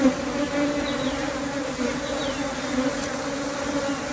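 A swarm of honey bees hums close by in a dense, continuous drone, with individual bees buzzing past now and then over the steady mass of wingbeats, and no one speaking.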